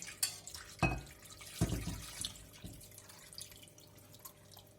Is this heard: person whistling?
no